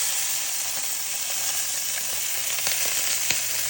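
A steak fries in hot beef tallow, giving a steady, bright sizzle and hiss with occasional small pops and crackles, close up and without talking.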